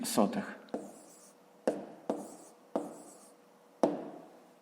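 Pen on paper writes out the answer to a fifth-grade maths exercise by hand, a scratchy opening stroke followed by a handful of sharp, evenly spaced taps and short scrapes, close and clear.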